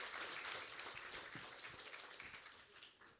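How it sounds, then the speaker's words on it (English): Audience applause at a summit event, a steady wash of many hands clapping that stays even and fairly faint throughout, with no voices heard. "And a big round of applause for Mike"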